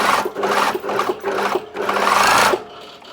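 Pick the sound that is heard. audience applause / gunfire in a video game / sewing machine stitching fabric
sewing machine stitching fabric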